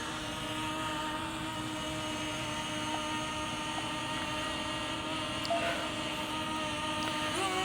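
A Ruko U11MINI drone whirs in flight with a thin, steady high-pitched propeller hum that holds constant at moderate distance.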